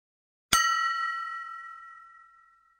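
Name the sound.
spoon striking a glass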